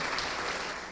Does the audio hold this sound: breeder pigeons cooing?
no